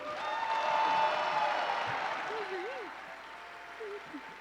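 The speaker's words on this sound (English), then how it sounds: "Can we give a round of applause for Emma?" A room of people applauding, a dense wash of clapping that peaks early and then tapers off, with a few voices murmuring near the end.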